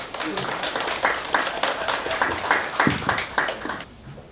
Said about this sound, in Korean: 뜨거운 박수로 자연스레 맞아주시기 바랍니다